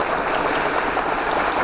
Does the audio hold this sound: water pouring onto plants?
no